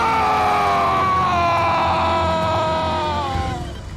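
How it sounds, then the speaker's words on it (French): The zombie Big Daddy in the film Land of the Dead lets out a long, loud, wavering howl that slowly falls in pitch over about four seconds before fading. "Le hurlement de Big Daddy lorsqu'il voit l'un des siens souffrir est particulièrement déchirant."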